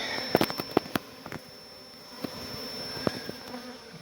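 Honey bees from a beehive built inside a chimney, a steady close buzzing hum with scattered sharp knocks and clicks over it.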